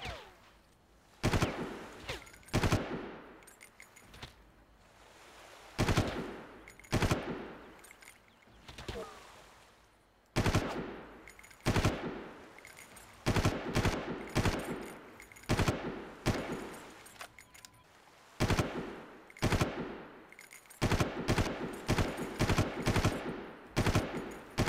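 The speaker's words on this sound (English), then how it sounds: "Who's firing at me?" Enemy gunfire in the Far Cry video game, rapid bursts of automatic shots and single cracks repeating throughout, loud and near, with little pause between volleys.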